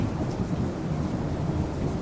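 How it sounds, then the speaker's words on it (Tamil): Heavy rain pours steadily with deep rumbling thunder throughout a storm scene in an animated children's story, a dense, loud wash with no voices. "மிகவும் பெரிய மழை பெய்தது."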